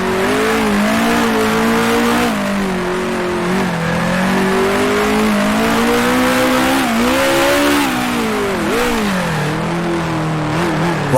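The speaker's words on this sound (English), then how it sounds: "Lock up the brakes." A 1966 Formula One race car at Monaco in the sim Grand Prix Legends, its engine loud and close, rising and falling through gear changes, with the pitch dipping sharply under hard braking and a faint tire screech.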